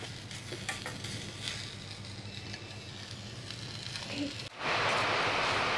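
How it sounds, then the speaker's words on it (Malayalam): Onions sauté in butter in a pan, giving a steady close sizzle with faint stirring scrapes that swells into a louder, hissing fry near the end. "അങ്ങനെ നമ്മുടെ സവാളയൊക്കെ നന്നായിട്ട് ഇങ്ങനെ വഴണ്ട് വന്നിട്ടുണ്ട്"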